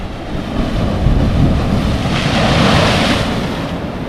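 Ocean surf breaks on the shore at Margaret River, Western Australia, a steady broadband roar that swells with one wave, mixed with wind buffeting the microphone, and no one speaks.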